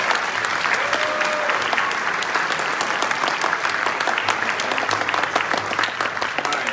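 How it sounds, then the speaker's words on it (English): An audience at a high school wind ensemble holiday concert applauds: steady, dense clapping fills the hall without a break for about seven seconds. "So give them a round of applause."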